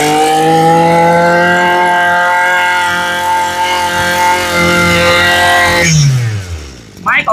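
A lawn mower engine revs loudly and steadily for several seconds, then its pitch drops as it winds down near the end, heard up close outdoors.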